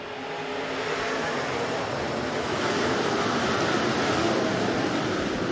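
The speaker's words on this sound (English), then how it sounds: "Back to green flag racing." B-Modified race cars race at Rapid Speedway, their engines merging into a steady, dense roar that holds loud and unbroken throughout, with no clear individual passes.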